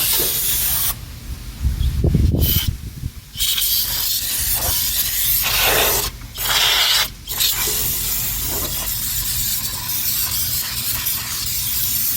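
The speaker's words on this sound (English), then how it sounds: "let's clean this up with some brake cleaners" Brake cleaner sprays in loud, close hissing bursts onto a freshly turned brake hub, with a few short pauses between long sprays and no talk.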